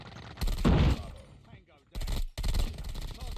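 Swordfish weapon hip fire in a video game: two loud bursts of rapid shots separated by a brief pause, with a gap of near quiet between them.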